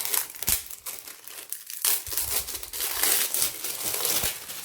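Plastic wrap around a foam roll crinkles and crackles loudly and close during an unboxing, a continuous rustling broken by a few sharper crunches, with no talking.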